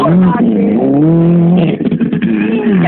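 A Mitsubishi rally car at a rally stage roars past at speed, its engine pitch sliding and then breaking up, heard close and loud under excited shouting from spectators.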